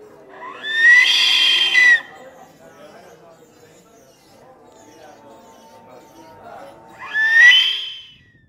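A sculpted ceramic wind instrument built to imitate an eagle's cry gives two loud, shrill, rising-and-falling piercing blasts about six seconds apart, with a soft low drone and quiet murmur between them.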